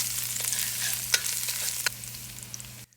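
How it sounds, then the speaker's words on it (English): Garlic fries in a tablespoon of olive oil in a heavy stock pot over medium-high heat, giving a steady close sizzle with a few sharp stirring clicks before it cuts off. "add 1 tablespoon of olive oil. Now add the garlic and cook for about 3 minutes."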